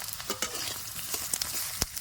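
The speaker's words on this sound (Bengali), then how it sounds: "এখন আমি কাইটে রাখা পেঁয়াজ আর কাঁচা লঙ্কা দিয়ে দেবো" Sliced onion and green chillies are stirred into frying potatoes in a village-style pan, with soft sizzling under a few sharp scrapes and taps of a spatula, quiet and close, and no voices.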